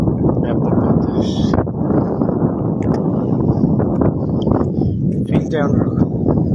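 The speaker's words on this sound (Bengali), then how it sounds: "ব্যাপক বাতাস" Strong wind buffets the microphone at a coastal fishing village in Sonagazi, Feni, a constant loud low roar with gusty surges throughout, while faint voices and a few brief higher sounds come through underneath.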